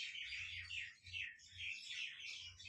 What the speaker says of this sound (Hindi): चिड़ियों को क्या हो गया?